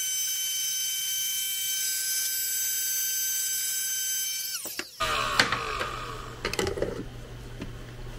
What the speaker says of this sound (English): I'm going to give it a little blow dry here with my little cordless electric blow gun.